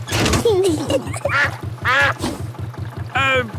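A cartoon duck swimming beside a small boat quacks repeatedly in loud, close bursts, several separate quacks spaced across the moment over a steady low chugging engine rhythm.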